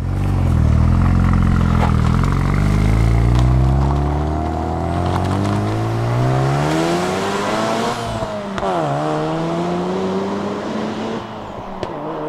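Modified Mazda RX-7 with its factory sequential twin turbo setup being driven hard, rotary engine revving up through the gears with rising pitch, a brief gearshift dip, then pulling again, loud and close.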